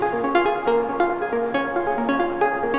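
Synth arpeggio repeating a steady stepped pattern, blended with Teaching Machines Wellspring stereo spring reverb and added delays, producing trailing echoes and a washy tail; loud and continuous with no talking.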